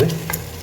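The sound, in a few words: mixing mutton into curry masala in a pan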